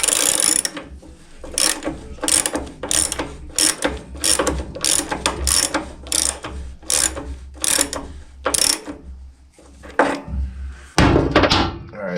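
Deck-height lever on a Troy-Bilt riding mower ratchets through a series of sharp, loud clicks and clunks in an uneven rhythm, close by, ending with a heavier thunk.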